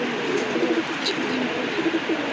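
Racing pigeons coo close by, a series of low, soft, rolling coos repeating over a constant background hiss, with no talk.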